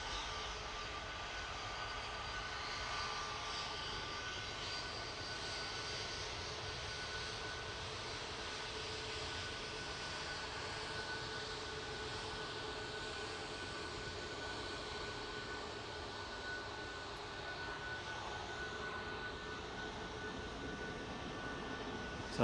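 A Jet2 airliner taxiing at Manchester Airport gives off a steady, faint jet engine whine and roar that holds evenly throughout, heard from some distance outdoors.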